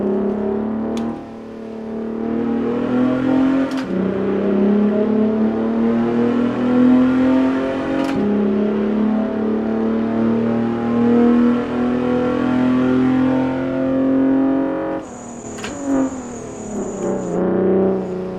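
A race car engine in a sim racing video game revs hard through a hot lap, loud and continuous, climbing and dropping through gear changes with short shift cuts, followed by a high electronic whine near the end.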